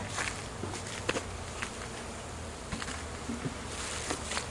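Steady buzzing of bees around a gallon feeder fills the air, with a few clicks and soft knocks scattered throughout; no voices.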